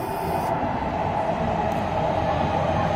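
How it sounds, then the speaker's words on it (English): A JR train rumbles steadily into a platform at Namba station in Osaka, a loud, continuous rolling roar of rail cars with no talking. "here comes our train"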